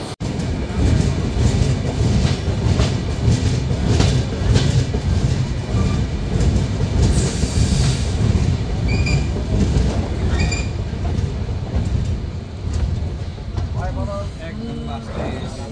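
Sundarban Express train running along tracks in Bangladesh near Faridpur, a loud continuous rumble with clattering wheels and brief squeals, heard from on board while a voice talks over it.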